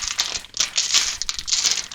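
Plastic bag around a computer I/O shield being opened during a budget gaming PC build, continuous close crinkling and rustling in bursts, with no speech.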